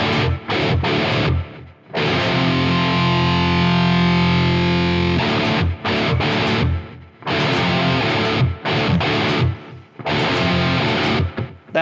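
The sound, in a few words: grungy distorted guitar tone with delay, Quad Cortex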